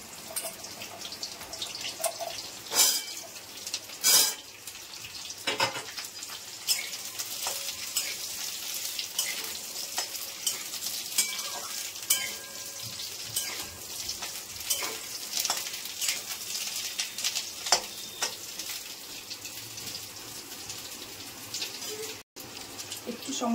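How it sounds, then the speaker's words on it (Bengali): Drumstick (moringa) pieces fry in hot oil for a Bengali pickle, a steady close crackling sizzle with scattered sharp pops and occasional stirring scrapes throughout, no talk. "এখন সজনাটা তেলে ছেড়ে দিচ্ছি।"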